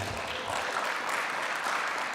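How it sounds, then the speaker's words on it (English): A conference crowd at ETH Dubai gives a brief, continuous round of applause, a steady wash of clapping at moderate loudness with no speech over it. "Let's give the biggest round of applause in ETH Dubai"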